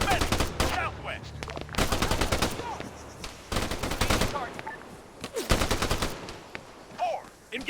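Bursts of automatic rifle and machine-gun fire in the ARMA 3 military game, several sustained volleys of rapid shots separated by short pauses, loud and close, with faint radio-style squad commands underneath.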